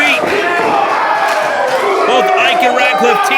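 A wrestling crowd at an indie GMW show cheering on Samuel Radcliffe, a loud, sustained roar of voices and shouts filling the hall, with a commentator talking over it.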